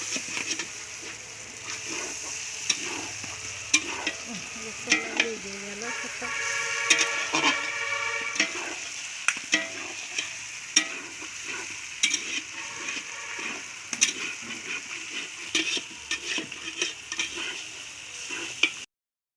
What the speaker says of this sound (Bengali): এবার সেই সবজিগুলোকে ভালোভাবে ভাজা হচ্ছে